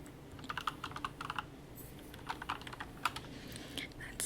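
Fingers type steadily on a Corsair K70 Lux RGB mechanical keyboard, with rapid clicky keystrokes close up, coming in bursts with brief pauses.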